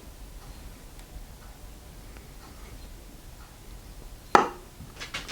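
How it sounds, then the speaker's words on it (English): A knife cuts a peeled hard-boiled egg in half, giving one sharp tap against the cutting board after a quiet stretch, followed by a few faint small knocks. "Take your knife down the middle."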